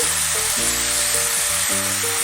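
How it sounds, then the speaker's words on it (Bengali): Chicken frying in a pan for a winter vegetable chicken stew gives a constant, dense hiss of sizzling oil, with background music playing over it throughout. "চিকেনটা একটু ভেজে নিচ্ছি"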